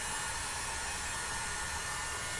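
A blow dryer runs steadily and close, warming a Cricut cutting mat being refreshed with Aleene's Tack It Over and Over adhesive, a constant broadband whoosh with no breaks.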